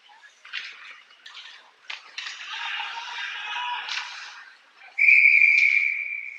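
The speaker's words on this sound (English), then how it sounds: "And we get a whistle." A referee's whistle sounds during an ice hockey game, a sustained shrill blast near the end, preceded by arena noise and skate and stick clatter.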